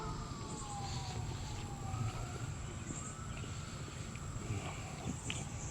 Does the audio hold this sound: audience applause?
no